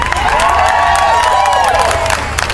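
Audience at a Save Texas Schools rally breaks into steady applause with cheering and whoops, a dense, loud crowd sound sustained throughout without a break.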